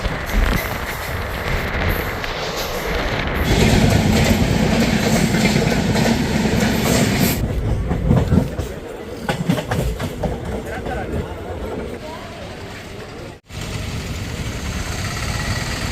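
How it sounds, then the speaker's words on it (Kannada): A train at Mysore railway station, with a loud, steady rumble and rattling of a stationary or slowly moving train and a sudden brief drop in sound near the end; faint voices mix into the noise. "Mysuru railway station."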